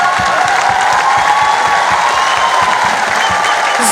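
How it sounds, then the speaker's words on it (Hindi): Loud, sustained applause from a large audience at a stage event, dense crowd clapping with a rhythmic pulse of unison claps and some cheering mixed in. "और दोनों हाथ ऊपर करते हैं जोरदार तालियों के साथ"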